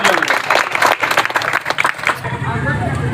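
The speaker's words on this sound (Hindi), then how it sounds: "मैं चाहूंगा एक बार विशेष रूप से इनके लिए तालियां।" Audience at a Babasaheb Ambedkar birth anniversary celebration in Katghar, Munger, Bihar, breaking into loud, dense applause with crowd murmur, then the clapping cuts off abruptly and fades into quieter room noise.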